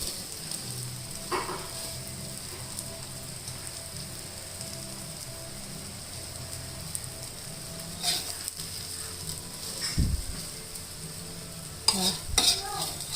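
Thai basil omelette frying in oil, a quiet steady sizzle with occasional stirring and scraping clatters near the end.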